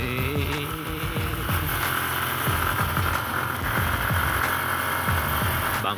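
A Yamaha Sniper 150 motorcycle rolls along slowly, its engine a low steady drone with faint pulsing under wind noise and road rumble, no talk.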